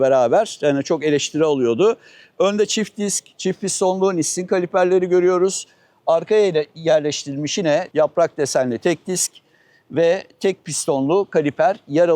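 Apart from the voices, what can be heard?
No everyday noises stand out.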